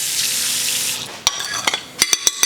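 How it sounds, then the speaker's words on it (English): Water poured into oats in a bowl: a soft hiss, then several sharp splashy pours and trickles in short bursts, close and clear with no talk. "so let's add some water"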